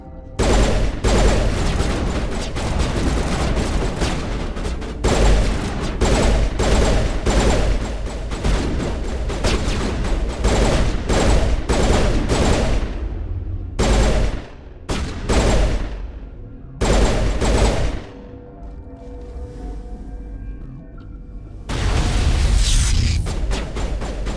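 Sci-fi firefight in Mass Effect, dense rapid bursts of gunfire crackling nearly continuously and loud, broken by short pauses before renewed volleys.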